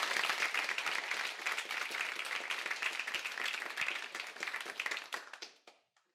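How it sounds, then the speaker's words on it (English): A small meetup audience applauds a speaker with dense, steady clapping that carries on for several seconds before thinning and fading out. "let's give Doug a round of applause"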